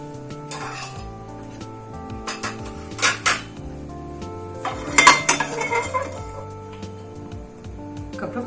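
Metal pots and pans clank and clink several times at close range as a pan is placed on the stove, with scattered utensil rattles between the louder knocks.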